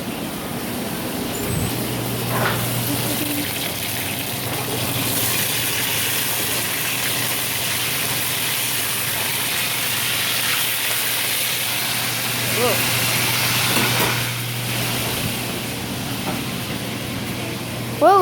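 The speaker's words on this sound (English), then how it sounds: "put in some raw chicken to make a very nice sizzling sound" Continuous loud sizzling hiss of raw chicken frying in a pan of hot oil, steady throughout with a low hum underneath.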